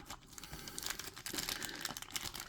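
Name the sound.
cutting figure out of its packaging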